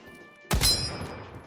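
A single sharp gunshot cracks close by in the browser shooter Krunker, a sudden loud report with a ringing tail, set against quiet game ambience.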